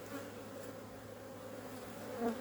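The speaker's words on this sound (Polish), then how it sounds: "Ale pszczoły naprawdę jest sporo" A soft, continuous buzz of honeybees at a hive in spring drones in the background, with a brief louder pass from one bee near the end.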